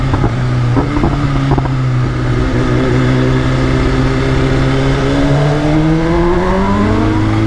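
A superbike fitted with an Akrapovic exhaust revs hard and close, its engine note climbing steadily and holding a loud, continuous roar with rising pitch throughout.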